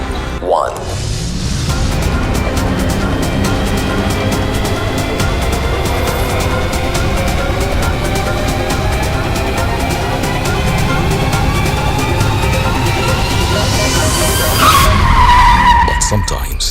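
Tata Sierra.ev electric car launched down a crash-test track, a loud continuous rush of tyre and motion noise building steadily, ending in a sharp rising screech near the close.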